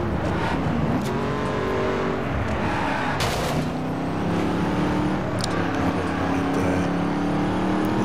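A car engine drones steadily while driving off-road in the racing game The Crew Wild Run, with a few brief knocks and rattles over the continuous hum.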